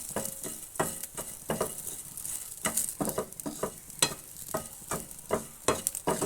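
Shallots and garlic fry in a hot pan for a sambar, a steady close sizzle broken by frequent scraping stirs, with no talking.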